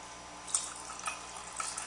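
Milk poured into a measuring cup for a coconut pudding, a soft steady liquid trickle with a few faint splashy drips, close and quiet.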